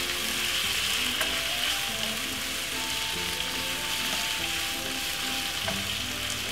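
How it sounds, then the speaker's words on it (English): Cabbage stir-fried in a pan for a Caribbean recipe, giving a steady, loud sizzle throughout, with no one talking. "Give it a nice lovely stir fry"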